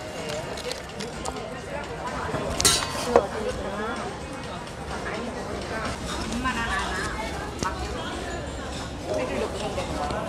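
A busy restaurant hums with steady crowd chatter, while cutlery and dishes clink intermittently in the background.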